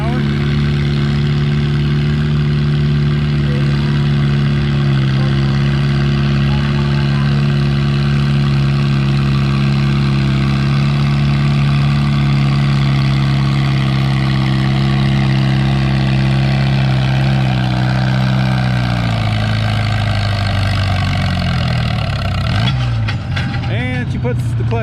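A small BN Farmall tractor pulling a 2,500 pound sled at about 3 mile an hour, its engine droning loud and steady throughout, the note falling away near the end as it stops.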